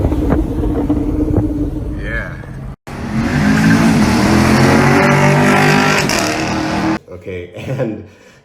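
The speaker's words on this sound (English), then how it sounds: "the first thing I really liked about this tune, okay, is that the car sounded way more aggressive." A tuned car's engine with an aggressive exhaust, revving hard in a loud sustained roar, broken by a brief cut, then dropping off into sputtering pops and crackles as the throttle is released.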